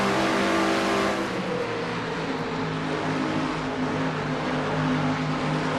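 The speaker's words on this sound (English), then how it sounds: "Flip flat to the floor now for Jessica as she lets her loose down the front stretch now." A race car engine roars at full throttle down the front stretch of Pocono in a sim racing league game, a loud sustained drone with steady harmonic whine and no pauses.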